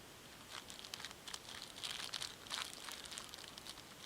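A small plastic zip-lock bag holding hunting matches is handled up close, giving soft crinkling and rustling in short irregular bursts at a faint level with no speech.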